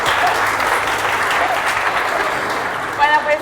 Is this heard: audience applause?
yes